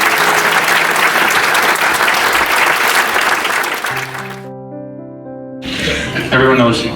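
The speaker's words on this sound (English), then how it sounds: "we should have a special round of applause for them." A crowd at a family gathering gives caregivers a loud, full round of applause that holds steady, then thins out, followed by a brief stretch of sustained tones and renewed noisy activity with voices.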